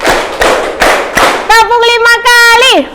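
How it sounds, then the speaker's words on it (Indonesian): A group of children claps together in a classroom, a few sharp broadband hits in a loose rhythm, followed by children's voices chanting in unison. "Tepuk 4 kali."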